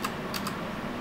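Keys tapped on a computer keyboard to enter a program name, a few quick close clicks over a quiet room hum.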